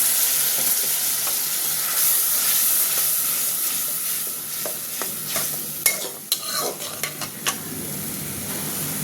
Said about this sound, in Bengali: মশলাটা বেশ করে ছটে করে নিতে হবে